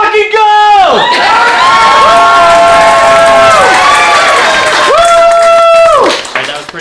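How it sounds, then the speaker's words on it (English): A loud crowd at a live show cheers and whoops continuously, with shouting voices rising and falling in sustained bursts. "I want to hear you cheer."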